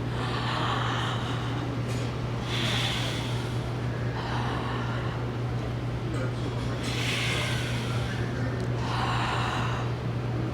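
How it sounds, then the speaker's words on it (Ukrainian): Deliberate, forced yawning done as a relaxation exercise, mouth opened wide and breath pushed out through the nose: several breathy, drawn-out yawns come in waves over a steady low hum, with no talking. "Ми починаємо штучно позіхати."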